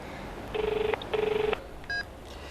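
Mobile phone keypad dialing tones, two clear bursts of rapid beeps in quick succession followed by a short single tone, close and alone in a quiet indoor room.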